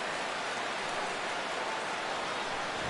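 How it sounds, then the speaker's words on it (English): Rain in the baseball video game MLB 17, a steady even hiss of falling rain throughout, uniform and moderately loud, with no voices or other sounds. "And Dan, when it comes to pitching in the rain, what changes?"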